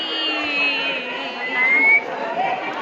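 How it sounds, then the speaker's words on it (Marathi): A whistle sounds in short, thin tones that come and go above a background of crowd chatter outdoors. "ओहो शिट्टी"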